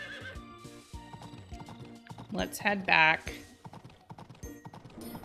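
A horse in the farming game Story of Seasons: Pioneers of Olive Town gives a loud, close whinny, with clip-clop hooves and game music around it and a person talking over parts of it.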